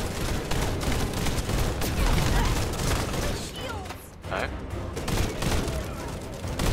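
Rapid, dense gunfire from tactical rifles in the shooter game The First Descendant fills the clip as continuous loud volleys, with players talking over the shooting.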